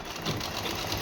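A sewing machine runs in a continuous fast whirring stitch while a suit is sewn, steady and close with no pauses.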